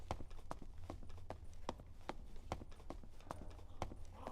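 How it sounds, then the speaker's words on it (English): Footsteps in the video game Dark and Darker tap out in a steady, regular rhythm, sharp distinct impacts over a low background hum, fairly quiet and unaccompanied by talk. "I heard footsteps and there's nobody here"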